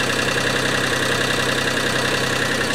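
A cogeneration unit's engine idles as it warms up, a constant close, loud mechanical drone with an even, rapid throb and no pauses or voices.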